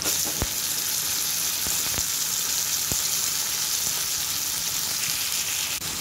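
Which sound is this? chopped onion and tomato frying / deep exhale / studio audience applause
chopped onion and tomato frying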